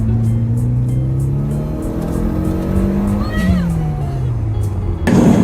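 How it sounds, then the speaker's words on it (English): A Peugeot 208 GTI sets off and accelerates from inside the cabin, engine note rising steadily through the revs with a gear change, loud and close, ending in a sudden burst of noise. "so here we are, setting off in my Peugeot 208 GTI"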